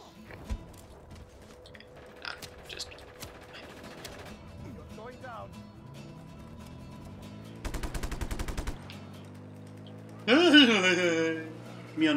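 Gunfire in Just Cause 3 rings out on a street, with scattered single shots and a dense burst of rapid automatic fire midway, while voices talk and exclaim loudly over the action.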